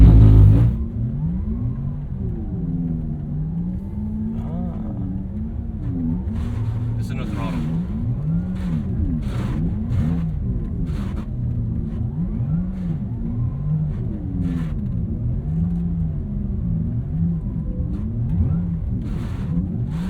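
A 2023 Porsche Taycan Turbo electric car driven hard around a track, a steady whine of motor and tyre noise that rises and falls with the throttle, under near-constant in-car talk.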